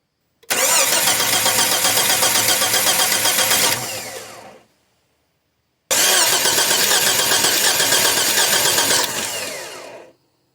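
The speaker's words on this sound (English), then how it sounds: "I'm not necessarily sure the thing is going to start because the guy got rid of it because it quit starting on him" A non-running Jeep that recently had a new ignition coil cranks in two long, loud, close attempts separated by a pause, with a steady rapid churning rhythm and no catch.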